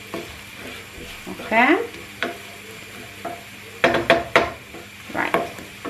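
Garlic and sweet paprika frying in a pan for fideuà de Gandia, soft sizzle under repeated scraping and stirring of a utensil against the pan, with a brief spoken word.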